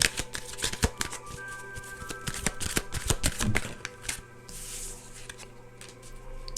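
Kipper cards being shuffled by hand, a close series of rapid riffling bursts and flicks in an uneven rhythm, loudest in the middle before easing into softer rustles.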